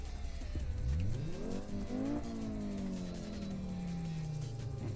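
Car engine in the Assetto Corsa racing game revving up hard through the gears, a muffled, rising then slowly falling engine note, loud and close, with no talk.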